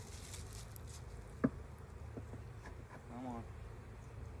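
Wasp buzzing near a beehive smoker at an apiary, a faint steady drone under low background noise, with a short spoken word and a soft knock partway through.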